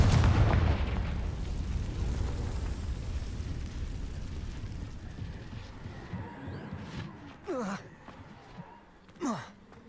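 In the Hogwarts Legacy video game, the Confringo fire spell bursts with a loud, booming explosion. It decays into a long, rumbling roar, and then two brief breathy sounds rise near the end.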